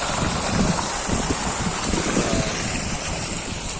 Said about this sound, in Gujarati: અહીંયા મોટર ચાલુ છે. ટાંકી માંથી બગડાતી બોલે જાય છે પાણી.